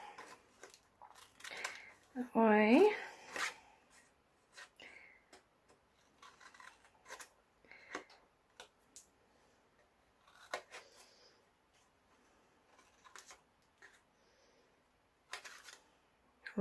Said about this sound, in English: A little pair of scissors works best with this